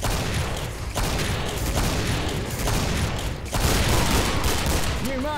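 Assault rifle fire from an FN rifle with an ACOG sight in the video game Killing Floor, rapid bursts of shots rattling continuously under game noise, with someone speaking briefly.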